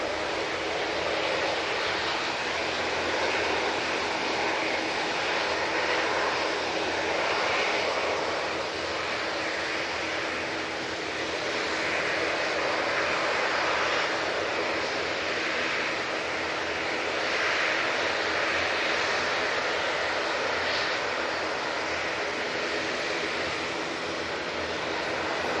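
An airliner departing Manchester Airport for Boa Vista roars on its takeoff run, a loud sustained engine rush with slow swells in intensity that carries unbroken, without talk.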